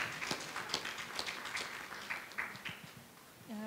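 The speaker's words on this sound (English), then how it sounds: "Give them a round of applause." Scattered audience applause at a Women's Day panel event, a few distinct claps at first that thin out over a few seconds, moderately faint in a room, with no talk over it.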